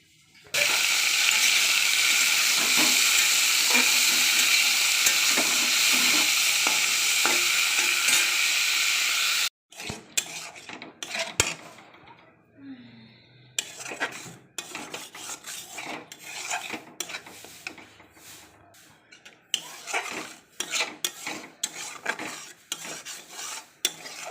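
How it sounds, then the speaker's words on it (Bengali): Cauliflower and potato fry in oil in a pan with a loud, continuous sizzle at first, then give way to scraping and clinking stirring strokes, with no talk. "এবার কপি আর আলুটা ভেজে নেব"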